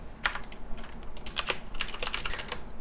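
Fast keyboard typing while entering CAD drawing commands, with bursts of sharp, close key clicks in an uneven rhythm and short pauses between them.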